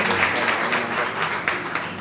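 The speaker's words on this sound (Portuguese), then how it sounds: "Aplauda mais forte. Aplauda mais alto." A church congregation clapping in a steady, fairly loud wash, rhythmic claps blending into continuous applause with faint voices beneath.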